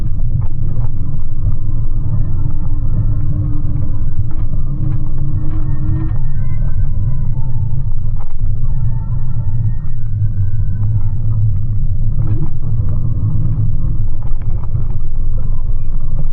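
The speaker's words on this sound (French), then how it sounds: "Avec bien sûr le bruit des voitures," Motorway traffic of cars and trucks runs overhead in a constant, loud low roar, with occasional tonal engine whines of passing vehicles drifting in and out and no speech.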